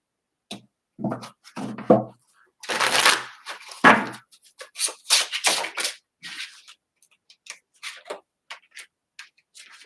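Gold Foil Tarot cards shuffled by hand, giving a series of quick papery riffles and flicks in irregular bursts, close and moderately loud, with no talking.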